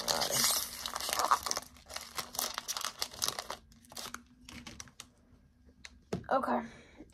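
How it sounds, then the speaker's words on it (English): Pokemon card packs shuffled by hand, giving a dense run of crisp papery flicks and crinkles that thins out midway, with a louder burst of handling near the end. "Okay, we're shuffling them."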